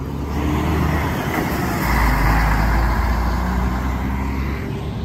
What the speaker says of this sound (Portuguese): Aí o Cometa saindo aqui também.